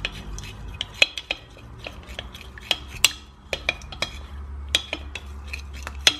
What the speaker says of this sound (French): ajouter un petit peu et continuer à mélanger